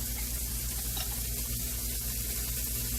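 A tablespoon of garlic goes into a hot pan for chicken and broccoli, giving a soft, steady sizzle of frying that stays faint and even throughout, with no voices.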